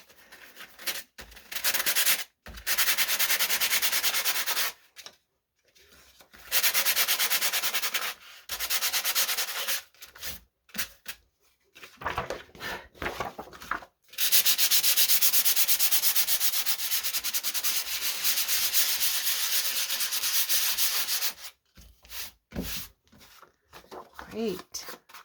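Sandpaper rubs across paper journal pages in long, close, scratchy strokes that start and stop repeatedly, with brief pauses and shorter rubs between the sustained passes.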